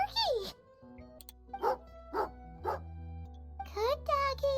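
Dogs bark in Genshin Impact, with a few short yips and bow-wows spaced through the moment and character voices talking before and after them.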